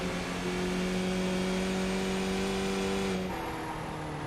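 A race car engine at Lime Rock Park in a racing video game holds a steady, droning whine at nearly constant revs, then drops slightly in pitch near the end, loud and continuous throughout.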